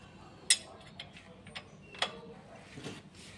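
A bolt is tightened during an oil change on a Perodua Axia, heard as sparse, sharp mechanical clicks and ticks of a ratcheting tool against a quiet background.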